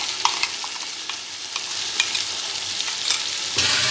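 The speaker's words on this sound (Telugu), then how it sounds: "ఆల్రెడీ తయారు చేసి పెట్టుకున్న ఈ మసాలా ముద్దను ఇందులో వేయాలి" Masala paste for chicken biryani frying in a pan, a bright continuous sizzle with intermittent stirring clinks, close and loud with no speech.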